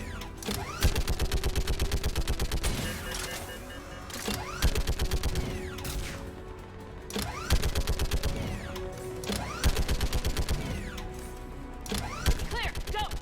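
Video-game gunfire in Mass Effect 3: repeated rapid automatic bursts of sharp shots in combat, loud and close, separated by brief pauses, with voices talking in between.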